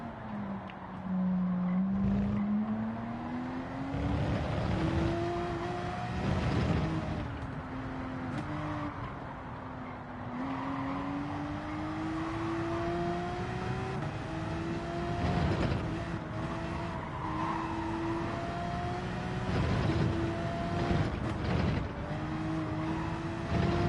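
Race car engine in Gran Turismo 7 holding a steady, rising and falling drone through a corner, with pitch dips at gear changes and periodic surges, loud and continuous for the whole stretch.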